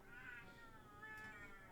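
A cat meows faintly in a video game, a drawn-out wavering call heard alone.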